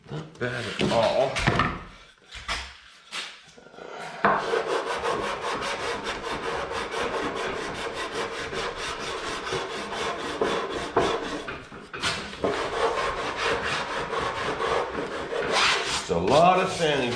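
Wood sanded by hand on a lighthouse model build, long runs of steady, close rasping strokes with brief pauses between passes.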